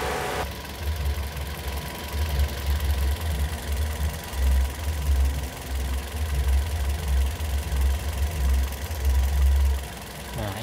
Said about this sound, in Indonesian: Baik, kita nyalakan dulu mesinnya.